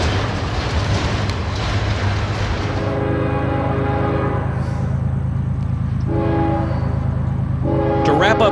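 Freight train led by a blue CEFX SD40M-2 diesel locomotive with a CSX standard-cab unit trailing rolls past close by, its loud steady engine rumble and wheel noise continuous, with a horn sounding partway through and again at the end.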